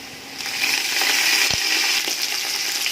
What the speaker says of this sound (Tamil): கொத்தமல்லி சேர்த்ததுக்கப்புறம் லைட்டாக ஃப்ரை பண்ணிவிடுங்க.